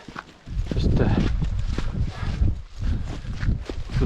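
Footsteps on a trail past sheep in the Mourne Mountains, a steady run of crunching steps close by, loud and continuous, under occasional speech.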